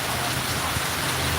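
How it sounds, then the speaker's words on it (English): Heavy rain pours down in a dense, steady hiss close by, loud and unbroken, with no voices. "Yeah, heavier rain."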